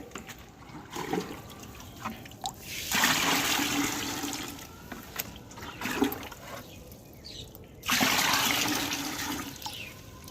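Copper oxychloride fungicide (Blitox) stirred into water in a garden sprayer tank, giving bursts of sloshing, swirling liquid with quieter trickling gaps between them, close and fairly loud, with no voices.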